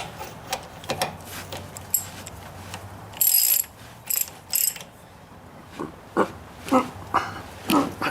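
A hand wrench ratchets in short bursts of quick clicking during an oil change on a Kubota K008 mini excavator, the bursts close and fairly loud, separated by brief pauses.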